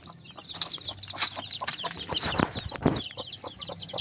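Chicks and chickens cluck and cheep close by, a busy overlapping chorus of short high peeps and lower clucks, moderately quiet with light background noise and no talking.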